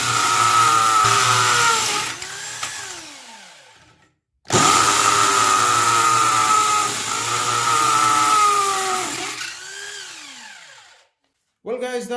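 Parkside PSBM 750 B3 hammer drill boring into concrete in impact mode, a loud rattling whine in two long bursts with the motor winding down between them and a short restart at the end.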